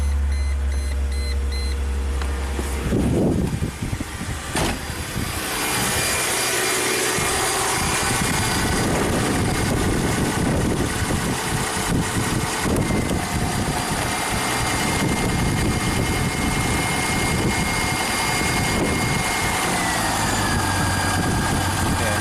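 A Chrysler Crossfire, jump-started, cranks over, catches and settles into a steady rough idle with electronic beeps, recorded up close; a voice talks over the running engine.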